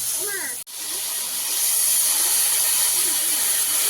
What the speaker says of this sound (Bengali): মশলাটা কষে নিয়েছি আর জলও দিয়ে দিয়েছি